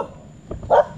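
A single short dog bark rings out nearby on the island of Yap, a brief sharp yelp against quiet outdoor background.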